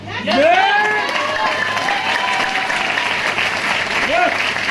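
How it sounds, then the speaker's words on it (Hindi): Loud, close applause fills a training-session hall, dense clapping mixed with cheers and a few high whoops and shouts rising above it. "तो जितना अच्छा लग रहा है उतने ही तालियों के साथ बताइए।"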